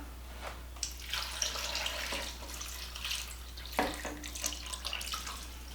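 Water pours steadily into a pot for several seconds, a running, splashing stream with a few brighter gurgles, close by and with no talking.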